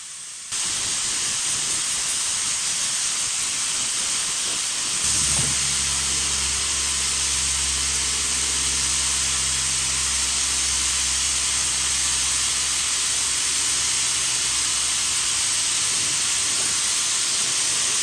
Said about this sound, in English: But the first coat, I'm going to spray it on.